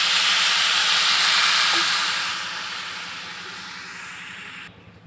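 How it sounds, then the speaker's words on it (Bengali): Water poured into a hot pan of frying bhuna khichuri hisses and sizzles loudly in a burst of steam, the hiss gradually subsiding to a softer steady simmer before cutting off. "দিয়ে দিলাম পরিমাণ মতো জল।"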